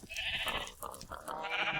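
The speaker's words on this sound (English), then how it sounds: "And then the sheep." Sheep bleat in Minecraft with a high-definition resource pack, several wavering nasal calls in a row, clear and moderately loud with no talking over them.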